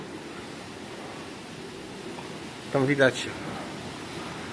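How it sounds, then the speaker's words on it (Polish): Rough, foamy ocean surf whipped up by a cyclone off Mauritius, heard from a hotel room terrace as a constant broad roar of breaking waves and wind, with a brief spoken word near the end. "widać, że ocean jest mega spieniony"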